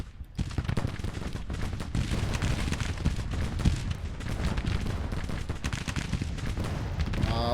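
Heavy artillery bombardment in the Grand Tactician Civil War strategy game, with dense overlapping cannon blasts and gunfire rumbling continuously, loud and close, in a rapid irregular barrage.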